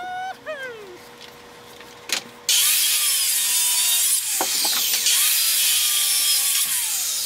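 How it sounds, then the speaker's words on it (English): A saw cutting through a wooden fence post held in a clamped jig, starting with a few short taps and scrapes, then a loud continuous rasping cut that runs steadily to the end. "And then make your cut, and that gives you a nice clean cut."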